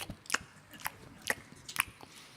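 A person mimics a bear munching wild strawberries with a handful of crisp, wet chewing and biting clicks, close and fairly faint, spaced irregularly over a couple of seconds.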